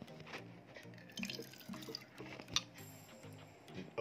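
Water pours from a Hello Kitty water dispenser into a glass, a faint, close trickle with soft gurgling, small drips and a light clink near the end.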